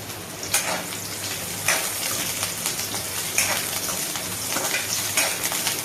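Chopped onion sizzling in hot oil for a khichdi-style rice dish, a steady hissing crackle with a few sharper spurts as pieces hit the pan.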